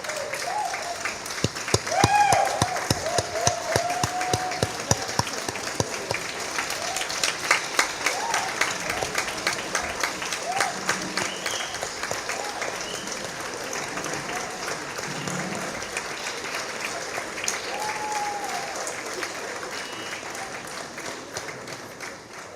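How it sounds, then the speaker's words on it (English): A literature festival audience in Kampala cheers and applauds in a dense, sustained wash of clapping that lasts throughout, with occasional whoops and voices mixed into the crowd noise. "We're cheering."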